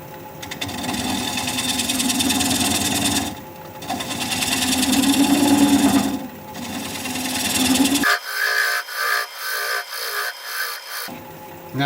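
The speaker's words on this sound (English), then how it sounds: "I'm going to switch to a 3/8 inch swept back bowl gouge and just keep working it" A wood lathe turns weathered mountain mahogany as a 3/8 inch swept back bowl gouge cuts, producing a continuous close whirring hum with swelling scraping passes and a couple of short breaks before a lighter, choppier stretch.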